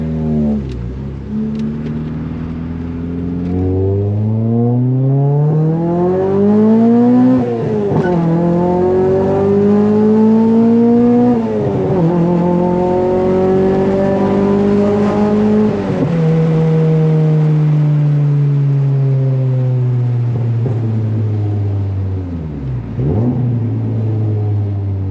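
Loud Honda Prelude engine pulling hard through several gears, each rising rev sweep broken by a quick shift drop, then settling into a steady drone before another brief blip, heard close from inside the car.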